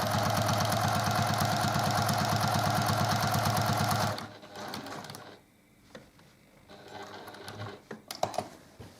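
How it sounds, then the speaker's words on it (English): A sewing machine winds thread onto its bobbin during quilting, a steady, fast mechanical whir for about four seconds that then cuts off, leaving quiet handling and faint clicks. "I've run out of bobbin thread there, so I need to refill my bobbin."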